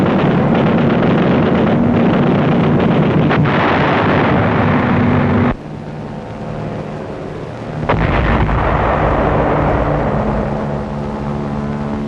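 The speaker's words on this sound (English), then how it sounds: "Offshore, supporting units of our fleet execute fire missions against the Naha area." Fleet warships offshore firing on the Naha area of Okinawa in World War II, heard as loud, sustained rumbling blasts and booming roar throughout, with a sharp drop partway and then another heavy burst.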